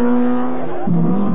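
A 1989 BMW M3 rally car racing flat out on a tarmac stage, its engine a loud sustained high-revving drone that drops in pitch partway through as it shifts or passes.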